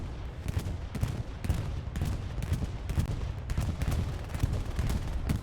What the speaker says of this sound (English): Oh, it's like a double bombing run.